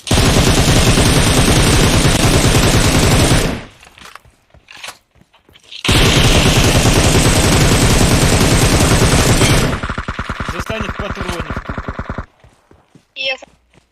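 Gunfire in the mobile battle royale game PUBG Mobile: long sustained bursts of rapid automatic fire, loud and close, broken by short gaps and ending in a few scattered shots, with players talking over it.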